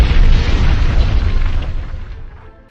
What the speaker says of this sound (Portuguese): uma explosão de uma granada o soterrou com escombros